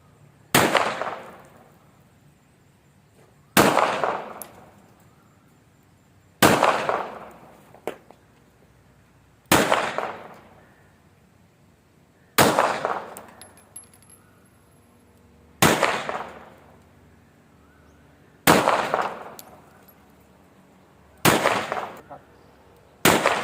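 Smith & Wesson Model 67 revolver fired eight times at a steady pace, each loud sharp crack followed by a short decaying ring, with quiet gaps of about three seconds between shots.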